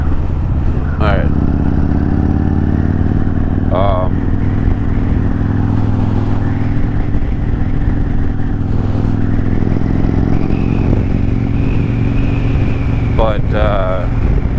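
A Yamaha Road Star motorcycle cruises along with a loud, steady engine rumble and wind roar close up, while someone talks over it for most of the ride.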